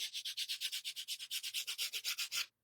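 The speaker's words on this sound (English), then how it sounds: "Let me see if I can just sand off the paste." Rapid, rhythmic sanding strokes rasp back and forth about eighteen times at a brisk, even pace, sanding off paste, then stop abruptly.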